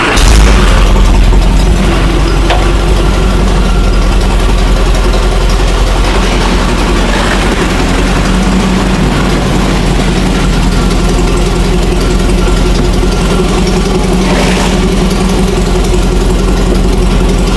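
The engine of an abandoned 1960 Nash Metropolitan runs loud and close with a steady, rough low rumble that holds throughout, with small surges and rattles along the way.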